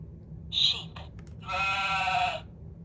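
A sheep bleats twice close by: a short call, then a longer, wavering bleat, heard against quiet background hum.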